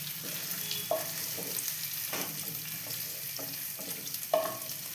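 Paneer pieces frying lightly in hot oil in a pan give off a continuous close sizzle, with a few soft clinks and scrapes of stirring.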